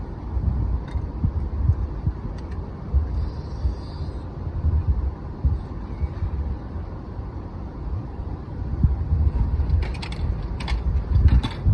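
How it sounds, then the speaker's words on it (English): A Japanese meat vending machine runs its mechanism to dispense a frozen item, giving a steady low mechanical rumble with a few sharp clicks and clunks near the end. "This is a meat vending machine."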